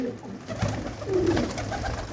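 A pigeon coos softly close by, one low throaty call standing out over a faint background hum, with no talking.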